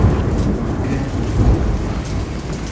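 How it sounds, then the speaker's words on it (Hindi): Heavy rain pours in a steady, dense roar in the hills around Kufri, Himachal Pradesh, with a low rumble of thunder rolling beneath it throughout. "बारिश बहुत हो रही है, बारिश रुकने का नाम नहीं ले रही है।"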